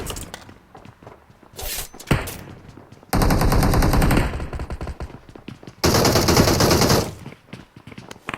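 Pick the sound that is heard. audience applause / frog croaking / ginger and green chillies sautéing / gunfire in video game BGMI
gunfire in video game BGMI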